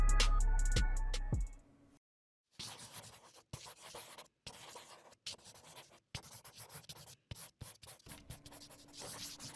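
A marker scratches and squeaks across paper in short, uneven strokes separated by brief pauses, close and fairly loud, after a loud sustained burst at the start.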